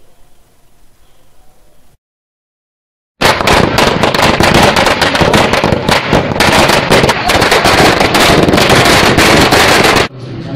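Firecrackers bursting in a rapid, continuous crackling barrage at a village celebration in Vemulawada mandal, Rajanna Sircilla district, starting after a brief quiet and lasting several seconds, loud and close.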